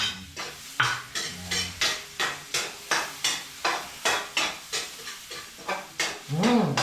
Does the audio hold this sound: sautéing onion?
yes